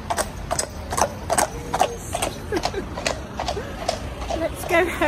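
Horse hooves clip-clop steadily on a city street while pulling a carriage, a regular series of close, sharp knocks with a soft rattle of wheels and harness, and voices talk in the background.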